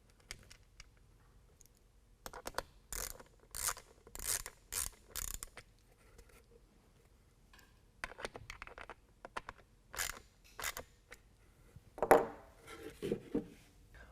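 A hand ratchet drives a T20 Torx bit on temperature sensor screws during an aFe air intake install on a 2020 Ram 2500 6.7L Cummins diesel; quick bursts of sharp clicking come close and quiet, separated by pauses.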